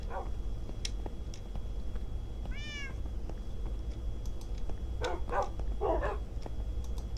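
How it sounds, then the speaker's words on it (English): Dogs bark in the video game Lego Island, a few short separate barks near the start and clustered toward the end, with a single cat meow in between over a constant low background hum. "So let's go ahead and claim every single dog."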